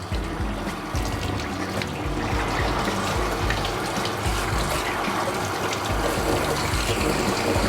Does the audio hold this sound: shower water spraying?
yes